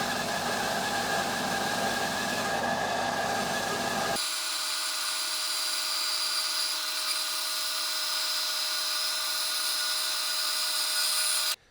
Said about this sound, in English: I'm going to resaw it down to a little over 3/8 of an inch